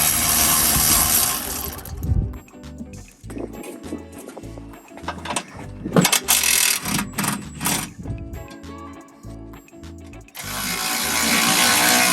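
Socket wrench working 18 mm bolts during a Warn winch and Artec bumper install on a 2020 Jeep JL: bursts of rapid ratchet clicking alternating with short quiet pauses and metallic handling, close by.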